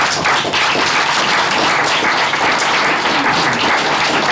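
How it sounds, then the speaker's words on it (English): Steady applause from a crowd fills the room, dense and even throughout with no break. "A quick round of applause."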